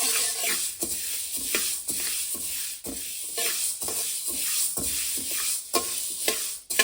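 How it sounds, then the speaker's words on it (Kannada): Spice powder ingredients for wedding-style sambar powder dry roasting in a pan over a low flame, with a steady soft sizzle and repeated scraping stirs at a regular rhythm, close and alone. "ಹಿಂಗೆ ಲೋ ಫ್ಲೇಮಲ್ಲೇ ನೀಟಾಗಿ ಹುರ್ಕೊಳ್ಳಿ."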